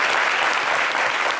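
Steady, dense applause from a crowd, loud and continuous throughout.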